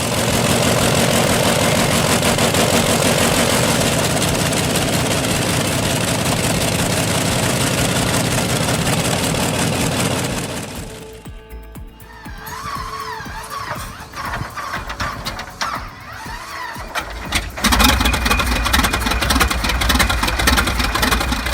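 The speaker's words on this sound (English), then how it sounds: "A brutal cold start that swells into a full-blown, thunderous mechanical symphony." An AV1790 29.3-liter V12 tank engine cold-starts with a loud, dense roar that drops after about ten seconds into a lower, uneven rumbling idle.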